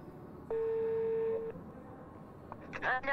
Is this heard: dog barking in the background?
no